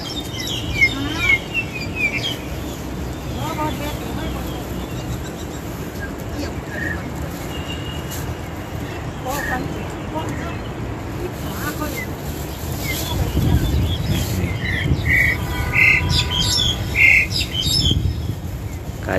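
Starlings chirp and squawk repeatedly at a close bird nesting spot, with sharp calls rising in the second half over steady outdoor background noise and people speaking.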